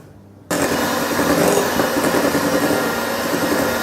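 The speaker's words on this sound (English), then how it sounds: "We're going to start by creaming together the caster sugar and the butter" An electric mixer creams caster sugar and butter for Victoria sponge cupcakes, starting abruptly after a half-second of quiet and then running as a steady, loud whirring drone to the end.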